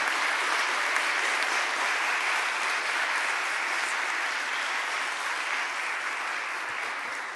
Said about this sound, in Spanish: quiero pedir un aplauso muy especial